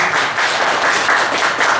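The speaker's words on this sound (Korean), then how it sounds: "우리 박수를 이렇게." A church congregation claps together during a Sunday worship service, a dense, steady wash of applause that fills the whole short stretch without letup or talk.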